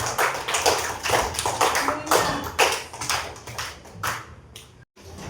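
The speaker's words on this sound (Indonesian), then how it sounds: "tepuk tangan untuk Naura, tepuk tangan" A classroom of students claps for a classmate named Naura, a dense run of close, sharp hand claps that carries for about five seconds before cutting off abruptly and briefly resuming.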